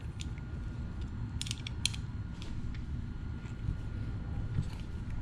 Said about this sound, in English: pop off this little backing plate with an Allen wrench.